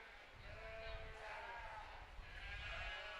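Sheep bleating at an FFA market lamb show at a county fair, wavering bleats from nearby animals over a low arena rumble, with people talking in the background.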